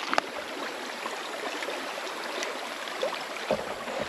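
Creek water flowing steadily, a broad continuous wash of moving water with no speech over it and a few small splashes or bumps near the start and end.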